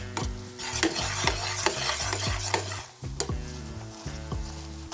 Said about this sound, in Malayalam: അപ്പോൾ ഇനി നന്നായി നമുക്കൊരു 5 മിനിറ്റ് ഒന്ന് ഇളക്കി കൊടുക്കാം.